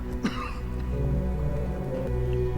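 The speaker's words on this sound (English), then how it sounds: "What's with the coughing?" A king coughing on a television drama, a dry rasping cough with throat clearing near the start, followed by low murmuring background sound, moderately close.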